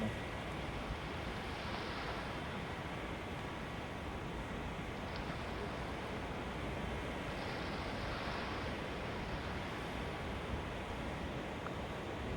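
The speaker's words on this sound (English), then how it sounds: "we are very stoked to have waves here indeed at Huntington Beach" Ocean surf breaking steadily at Huntington Beach during a stand-up paddle surf contest, a continuous broad roar of waves with wind noise, distant and unbroken.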